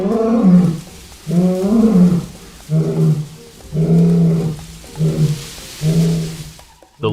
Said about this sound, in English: The lion roared and charged toward them at incredible speed.